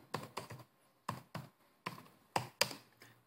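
Keys clack on a computer keyboard as a fastboot command is typed in quick irregular bursts of taps with brief pauses between them, close and fairly quiet, with no speech.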